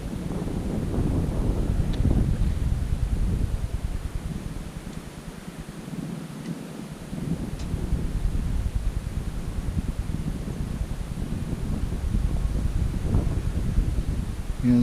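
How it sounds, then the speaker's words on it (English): Steady wind gusting across an open lake during a carp fishing session, a constant low rumbling roar buffeting the microphone with slight swells and dips in strength throughout. "The wind's getting up"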